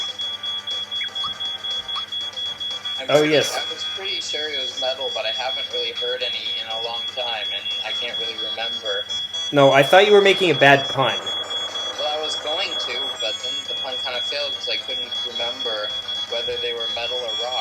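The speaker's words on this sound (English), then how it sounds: "By the way, that's our smoke alarm" A home smoke alarm above the stove emits a steady, high-pitched electronic tone that runs unbroken for the whole stretch, sitting beneath a relaxed conversation between two people.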